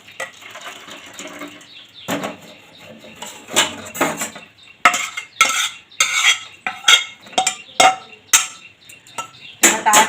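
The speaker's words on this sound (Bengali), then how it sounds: "এবার এই জলটাকে আমি ছেঁকে নেব।" Flower-coloured water strained through a strainer into a pot, with sloshing pours, scraping and metal clatter of kitchen utensils coming in uneven bursts at close range, and some background talk.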